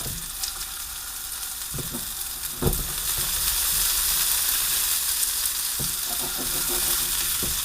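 Meatballs for wedding soup sizzle steadily in an oiled pan, with a few sharp scrapes and clicks of a utensil against the pan bottom as the frying continues without speech.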